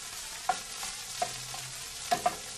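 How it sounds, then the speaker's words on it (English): Egg-coated food stirred in a frying pan under a steady soft sizzle, punctuated by a few sharp clicks of the utensil against the pan. "Really stir it around till everything is coated in eggy"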